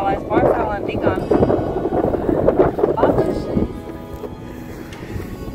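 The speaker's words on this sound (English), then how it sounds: "the wind is blowing a bit, so it's blowing all this stuff all over our lines" Gusty wind buffets the microphone beside the water at Hartbeespoort Dam, a steady rough rumble with occasional thumps, loudest early and easing off toward the end.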